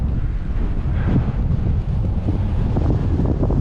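Strong headwind roars steadily across the microphone of a cyclist riding a loop near St. Jo, Spanish Fort and Nocona, Texas, a dense, buffeting rush of low noise that never lets up.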